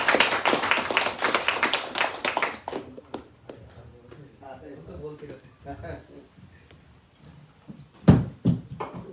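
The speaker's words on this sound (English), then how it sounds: "So I request all devotees to give a round of applause for Pujapad Maharaj" Devotees at an evening Bhagavad-Gita program in New York clap for a visiting Maharaj, loud dense applause that thins into scattered claps, then a few louder claps near the end, with talking underneath.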